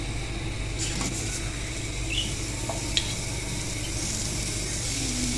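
Onions roast in a pan for onion-tomato chutney, giving a steady, fairly quiet sizzle with a few light clicks and stirring taps throughout.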